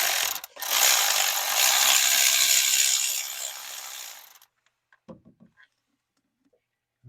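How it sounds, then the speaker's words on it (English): A ratchet on an extension turning a spark plug socket deep in the plug well of a Ford 5.4L Triton engine, a loud, dense clicking run of about four seconds followed by a few faint knocks. "Get the ratchet, attach it to that extension."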